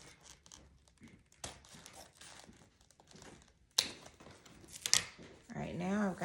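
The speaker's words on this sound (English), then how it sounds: "I'm gonna cut my ribbon" Scissors snip through ribbon while a Christmas bow is being made, giving a few sharp cuts amid close crinkling and rustling of the ribbon, with a louder burst of crumpling at the end.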